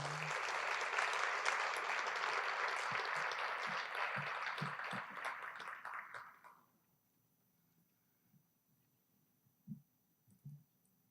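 Applause honoring an Army National Guard member at a military recognition ceremony, a full round of clapping from a large crowd that stops abruptly after about six seconds, followed by near silence with a few faint thumps.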